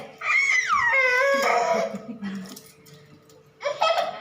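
A dog gives a high, wavering whine or howl that glides downward over about a second and a half, close and fairly loud. A few softer yelps follow, with another short burst near the end.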